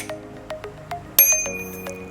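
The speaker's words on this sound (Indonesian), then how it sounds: "Sudah mendapatkan bel" Bell on a Polygon Urbano 5 city bicycle rung several times in a quick series of bright, ringing dings, close and clear, with a louder strike midway that lingers.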